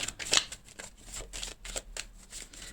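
Tarot cards being shuffled and drawn during a weekly card reading, with rapid papery riffles and flicks that repeat in quick bursts, close to the microphone with no talking.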